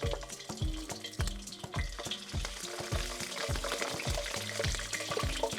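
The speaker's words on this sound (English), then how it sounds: "Now that it's hot, go ahead and throw in our tripas." Beef tripe frying in hot lard in a pan, a loud, dense sizzle with repeated rhythmic scraping and stirring strokes roughly every half second, crackling steadily throughout with no voices.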